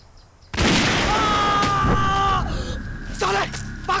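A sudden loud gunshot blast erupts after a quiet moment, followed by a sustained ringing tone and lingering noise, with a shout near the end.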